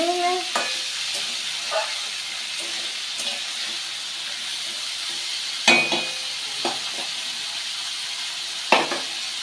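Cauliflower, beans and other vegetables are stir-fried for fried rice. A steady hissing sizzle runs throughout, broken by several sharp clanks and scrapes of a spatula against the pan, close up with no voices.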